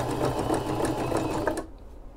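A home sewing machine runs steadily through fabric while sewing a wide stitch, giving a close, continuous whirring rattle that stops abruptly near the end and leaves quiet room tone.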